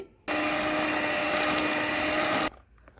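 An electric beater whirs steadily in moist cake batter, starting abruptly, running as a loud, even motor drone for about two seconds, then cutting off sharply.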